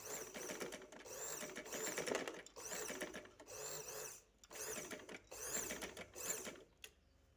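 A sewing machine stitches lace onto the edge of fabric, running in several rapid mechanical bursts with brief pauses between them, close and steady, with a faint creak.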